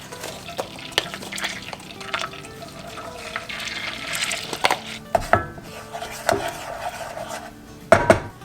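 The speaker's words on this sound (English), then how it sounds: "I've been cutting up the mushrooms" A knife chops mushrooms on a cutting board in a home kitchen, a series of sharp, irregular tapping strikes close by, while butter sizzles softly in a pan and utensils clink in the background.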